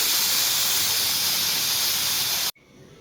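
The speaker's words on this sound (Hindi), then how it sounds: "विसल को उठा देंगे।" Steam hisses loudly and steadily from a pressure cooker of soaking rice and masoor lentils as its whistle is lifted, then cuts off abruptly, leaving a faint quiet tail.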